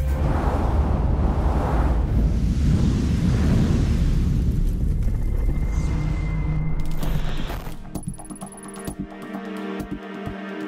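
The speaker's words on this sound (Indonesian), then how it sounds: "bersiaplah untuk melihat ledakan paling dahsyat dan mengerikan yang pernah tertangkap kamera." Massive explosions thunder in a loud, sustained roar with deep rumbling and crackling debris, continuing for several seconds before thinning into scattered mechanical rattles and tones near the end.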